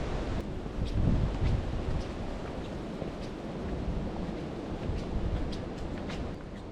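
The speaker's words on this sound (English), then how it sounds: "It's windy up here" Strong gusting wind on a mountain top on Oberg Mountain roars across the microphone, rising and easing in broad rumbling waves with no voices.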